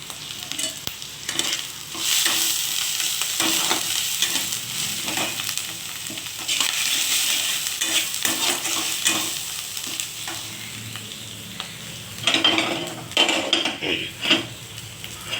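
A spoon stirs frying masala for prawn curry in a pan, with repeated scraping and clattering strokes over a steady sizzle and sharper bursts of activity toward the end.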